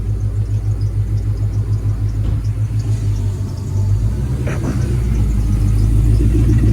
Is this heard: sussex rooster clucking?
no